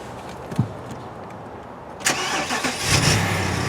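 A 2009 BMW X5 4.8i engine cranks and starts after a quiet moment, then settles into a steady idle, heard close up from inside the vehicle.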